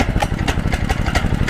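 A wood chipper's small engine sputters and chugs as it starts, running in a fast, uneven throbbing rhythm close by.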